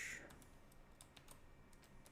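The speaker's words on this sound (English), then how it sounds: "typing one-handed" Quiet, quick keystrokes on a computer keyboard, a brief irregular run of soft clicks close by.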